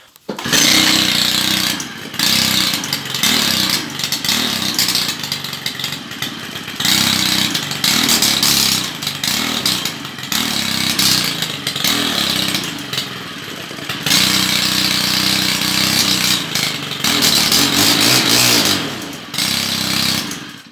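A Stihl FS90 brushcutter, just serviced with a cleaned air filter and adjusted carburettor, fires up and runs loud and close, its two-stroke engine surging and stumbling unevenly for about twenty seconds with a suspected carburettor fault.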